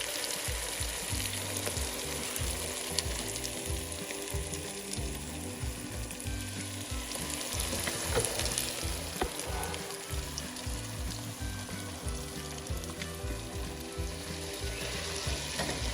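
Mixed vegetables fry steadily in a pan, a continuous close sizzle and crackle with occasional stirring scrapes, holding an even level throughout with no voices.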